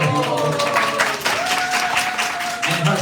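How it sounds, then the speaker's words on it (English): An audience at a morning devotional program in a home in Seattle claps steadily throughout, with a faint voice speaking under the applause. "One clapping for him."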